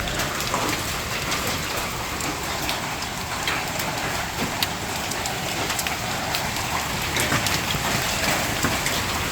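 Hail drums steadily on a roof in a dense, loud hiss of countless impacts, with occasional sharper hits standing out, no voices.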